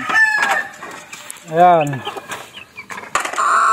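Backyard chickens and young stags at feeding time, one rooster giving a clear crow in the middle while hens cluck around it and someone talks over the flock.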